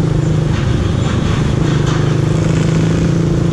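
A Suzuki Raider R150 Fi motorcycle idles and pulls gently with the clutch feathered, producing a loud, close, steady low engine rumble with a slight rhythmic pulse.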